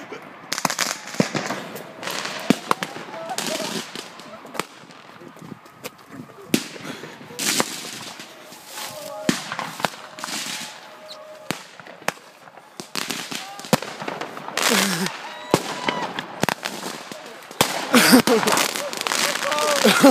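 Fireworks fired as a cannon into a tree go off in a rapid string of sharp cracks and bangs, some near and loud, some thinner and farther off, with excited talk mixed in throughout.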